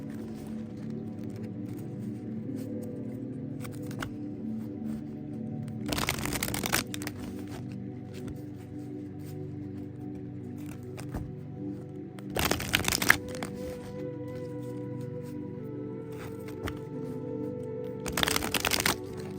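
Tarot cards are shuffled in three short riffling bursts spaced several seconds apart, close and crisp over a steady low room hum.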